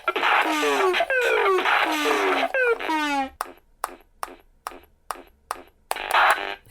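Stylophone Beatbox machine playing electronic drum and percussion sounds: rapid pitched blips and sweeping zaps give way to a sparse sequence of crisp, clicky percussive hits, with a brief burst near the end.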